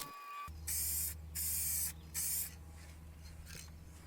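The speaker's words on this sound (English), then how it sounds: "Let that dry and then started to put the clear coat on" Paint spraying onto the sill of a Skoda Fabia Mk1, heard as three close, loud hissing bursts of about half a second each, separated by short quiet gaps.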